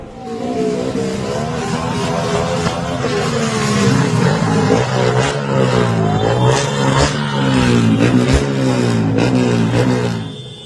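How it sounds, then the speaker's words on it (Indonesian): Motorcycles with loud modified exhausts rev continuously with rising and falling pitch, harsh rasping exhaust roar filling the whole stretch, sounding close by. "suara bising knalpot brong"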